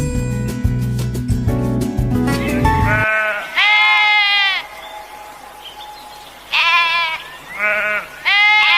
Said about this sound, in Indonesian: Kali ini saya akan menceritakan tentang hewan domba.